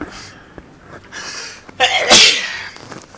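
A single sharp sneeze bursting out close to the microphone, preceded by a brief inhale, during a League of Legends gaming session.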